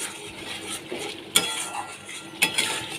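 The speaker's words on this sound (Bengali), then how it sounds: "ভালো করে কষিয়ে নিচ্ছি মশলা" Spice masala for a shrimp and potato curry fries in oil in a pan, a soft sizzle broken by quick metal spoon scrapes and two sharp clinks against the pan; no talking.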